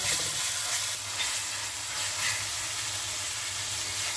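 Ginger, garlic and green chili are stirred into minced chicken frying in a pan, with a steady close sizzle and hiss and faint stirring scrapes throughout, no voices.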